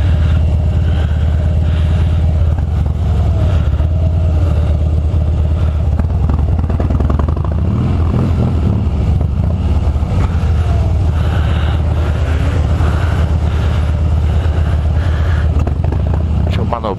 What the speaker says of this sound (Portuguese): Deixa eu manobrar a moto.